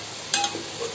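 Ground masala paste sautéing in hot oil for a seeraga samba mutton biryani, a soft steady sizzle with a brief louder burst of stirring and spatula scrapes, close and with no talking.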